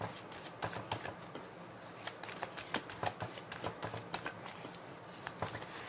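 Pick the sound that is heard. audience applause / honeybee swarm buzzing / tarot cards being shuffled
tarot cards being shuffled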